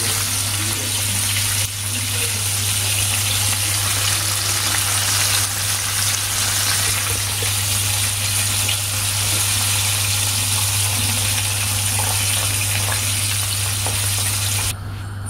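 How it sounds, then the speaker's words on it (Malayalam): Broasted chicken pieces frying in a pot of hot oil in a home kitchen, giving a loud, steady, dense sizzle and crackle that holds throughout with no talking. "ബാക്കിയുള്ളതെല്ലാം നമുക്ക് ഇതേപോലെ പൊരിച്ചെടുക്കാം."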